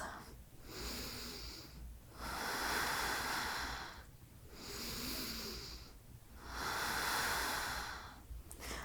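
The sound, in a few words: deep breathing during yoga pose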